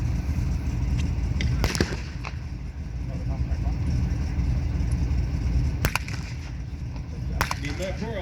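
Simulated shelling at a Tankfest early WW2 battle reenactment bursts out as a few sharp blasts over a constant outdoor rumble of engines and crowd, with people talking nearby.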